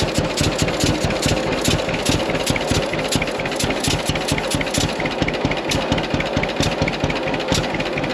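A two-cylinder John Deere tractor engine runs close by with a loud, even popping beat, a steady rhythmic chug from start to finish and no voices.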